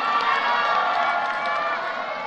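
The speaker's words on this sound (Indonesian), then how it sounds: "Boleh tepuk tangan untuk seluruh calon wakil gubernur Jawa Barat." Applause from a debate audience for the West Java vice governor candidates, a dense, steady wash of clapping from a large crowd that sustains at even loudness throughout.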